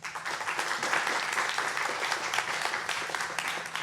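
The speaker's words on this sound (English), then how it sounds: "Let's give them a clap." Moderate audience clapping at an academy lecture, a steady patter of many hands lasting a few seconds with no talk over it.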